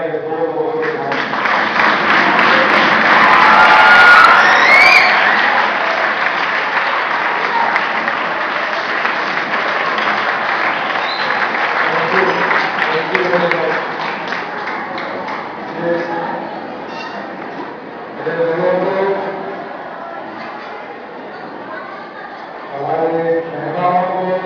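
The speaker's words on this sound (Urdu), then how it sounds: "آپ پورے کھڑے ہو کر تالیاں بجائیے" A seated audience at an Anjuman-e-Mahdavia gathering rises and applauds, a dense, loud round of clapping that swells early and then thins while a voice speaks over the fading applause.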